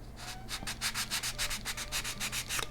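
Rhythmic back-and-forth sanding of a model rocket's wooden fin leading edge, steady rasping strokes repeating about every quarter second, close up with a low hum underneath.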